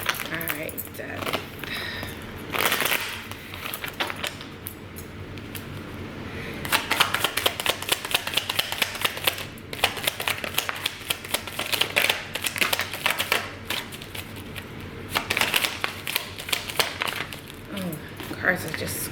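Tarot cards shuffled and drawn quickly, a dense run of crisp riffling and flicking card sounds that keeps going throughout while a person talks over it.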